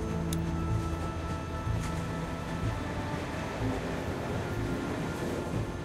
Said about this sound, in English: We need to stop this train.